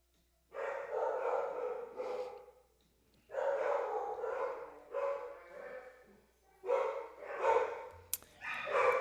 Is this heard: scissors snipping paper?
no